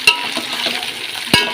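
Chopped radish, carrot and other vegetables are stirred together in a pot for Chennai-style sambar, giving a soft continuous scraping with two sharper clinks of the spoon at the start and near the end, close by with no talk.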